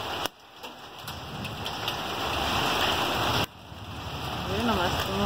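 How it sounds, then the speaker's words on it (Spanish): Dense hail pelting surfaces and plants in a steady loud clatter, with sudden brief dips, and a voice speaking faintly underneath. "Bastante granizo, a ver si no quiebra las plantitas"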